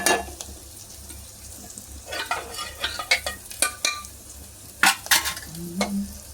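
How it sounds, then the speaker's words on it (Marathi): Spices for methi dal tadka sizzling in hot oil, a low steady crackle with sharp stirring scrapes and clatters of a spoon against the pan. "आता आपण याच्यात फोडणी देणार आहोत"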